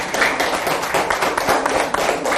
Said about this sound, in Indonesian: Ada tepuk tangan dong.